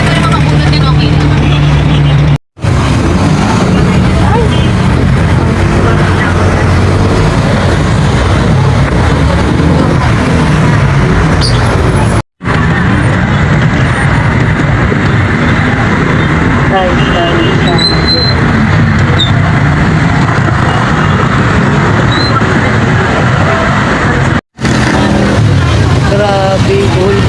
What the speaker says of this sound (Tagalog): Grabe, buhol-buhol dito ang traffic.